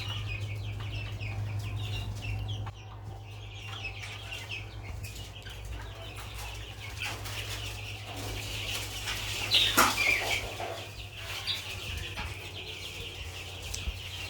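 Twenty-three-day-old chicks cluck and chirp intermittently at close range over a constant low hum, with a brief flurry of flapping wings near the middle.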